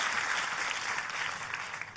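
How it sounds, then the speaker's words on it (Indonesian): A church congregation applauds for Jesus during a worship service, producing a continuous, even patter of many hands at moderate distance, fairly soft and sustained throughout. "Tepuk tangannya boleh lebih dahsyat lagi buat Yesus Tuhan kita"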